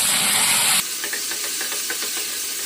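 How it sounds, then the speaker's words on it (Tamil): Ginger garlic paste frying in oil for an Indian-style vegetable masala pasta, a loud steady sizzle that cuts down abruptly to a softer crackling hiss with light stirring scrapes. "இஞ்சி பூண்டு பேஸ்ட்டை எண்ணெயில் நல்லா வதக்கி விட்டுருவோம்"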